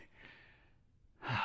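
Heavy breathing during a steel mace workout: a long, close exhale lasting almost a second, a short pause, then a sharper, louder breath.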